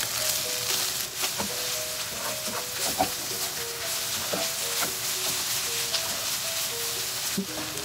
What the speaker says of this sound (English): Okay, just keep sauteing it.